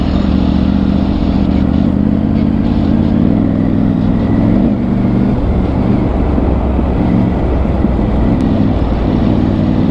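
Steady engine drone from a motorcycle being ridden on an off-road trail, continuous and loud with road rumble and a little rattle, no voices.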